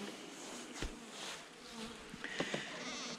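A dense, close swarm of honeybees buzzing steadily at an opened hive in late autumn, with individual bees droning past the microphone.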